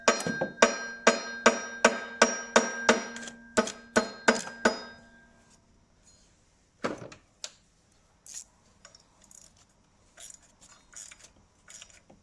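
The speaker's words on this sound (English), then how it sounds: "Let's give it a little tap and see what happens." A small hammer taps the high-pressure fuel pump of a Peugeot 406 2.2 HDi about a dozen times in a quick, ringing rhythm, then a few scattered, quieter knocks and clinks follow.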